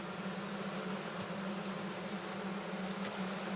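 Bees hum in an open beehive, a steady unbroken drone sitting close and even for the whole stretch with no other sounds.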